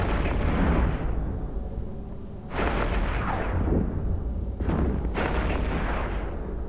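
A Vindicator battleship blows up in the space game EVE Echoes, with heavy booming blasts that surge loud three times and roll off into a rumbling tail.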